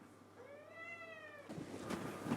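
A pet cat in a student's apartment in Prague gives one clear, drawn-out meow that rises and falls, fairly close and alone, followed by louder household rustling and handling noise.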